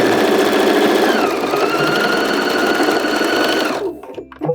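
Up close, a sewing machine drives a continuous rapid stitching run while back stitching a pant leg seam, then slows and stops near the end, leaving faint handling noise.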